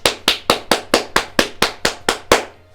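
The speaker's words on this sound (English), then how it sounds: "That wasn't clapping, that was me slapping him in the face." Eleven sharp, evenly spaced smacks like open-hand slaps to a face, loud and close, coming about every quarter second before a brief fading tail.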